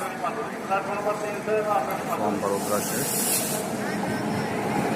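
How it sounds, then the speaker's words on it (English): The Saurashtra Express, hauled by a WAP 5 electric locomotive, gives a steady broadband hiss and rumble close by, while someone talks over the noise. "That's Saurashtra Express pulled by WAP 5"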